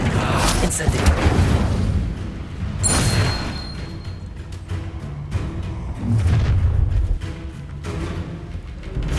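Fiery Incendiary spell blasts in Hogwarts Legacy, several heavy booming bursts separated by a few seconds, mixed with battle sounds and speech throughout.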